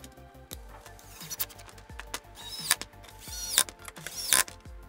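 Splitboard binding discs being screwed onto board inserts, with a run of close, quiet ratcheting clicks and small metallic ticks that grow slightly busier toward the end.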